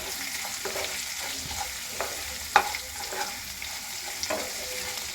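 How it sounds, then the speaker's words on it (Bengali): Tempering spices frying in hot oil in a pan for semolina upma, a low continuous sizzle with occasional stirring scrapes and one sharper clink, nearby and without talk. "সব কিছু একসঙ্গে ভালো করে ভেজে নিচ্ছি"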